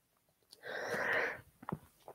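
A single sneeze bursts out during a French science lesson on nuclear transformations and dating, a loud broadband blast about a second long, followed by short soft breaths or sniffs.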